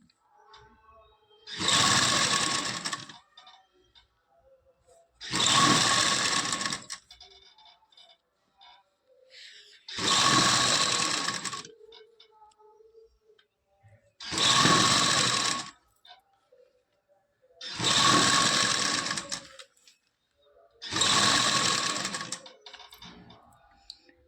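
A sewing machine stitches lace onto a dupatta in six separate bursts of rapid, whirring stitching, each lasting about two seconds, separated by short quiet pauses, close and loud with no speech.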